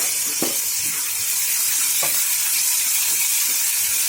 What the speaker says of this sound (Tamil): இப்போ இது கூடவே 3 தக்காளி, 2 பச்சை மிளகாய் இதையும் சேர்த்துக்கிடுவோம்.